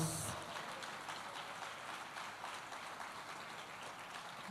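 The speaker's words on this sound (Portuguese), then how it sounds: "Se você crê, aplauda ao Senhor então." Church congregation applauding during a worship service: a faint, steady wash of many hands clapping, a dense hiss-like patter that starts slightly stronger and then holds evenly, with no clear speech over it.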